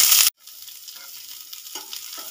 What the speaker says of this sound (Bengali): 1 মিনিট মতো নেড়ে চেড়ে ভেজে নিয়েছি